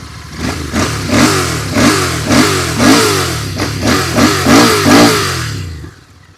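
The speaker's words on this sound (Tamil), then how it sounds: "எக்ஸாஸ்ட் சவுண்டு கேட்கும் நம்ம." A Royal Enfield Bear 650 motorcycle with a 2-in-1 exhaust revs repeatedly, about eight loud close throttle blips in a steady rhythm over a rumbling idle, then the engine settles.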